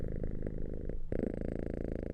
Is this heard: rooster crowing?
no